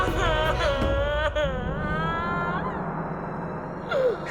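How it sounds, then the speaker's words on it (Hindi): Eerie, wavering wail in a horror drama, a drawn-out crying tone that rises and bends over a low rumble, with a second short cry near the end. "ये किसकी रोने की आवाज है?"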